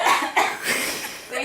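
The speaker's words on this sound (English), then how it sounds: "please cough on this blanket" Cough onto a blanket: a couple of sharp, close, forceful coughs in quick succession, breathy and loud, alone without talk.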